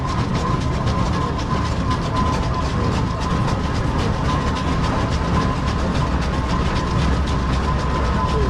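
A steam traction engine trundles slowly around a show ring at an agricultural show, giving a steady, close, continuous rumble with rhythmic mechanical clatter throughout and no talk over it.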